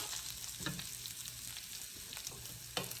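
Leftover Thanksgiving turkey rösti frying in hot fat in a pan makes a steady, close sizzle with a few soft stirring scrapes over it. Nobody speaks.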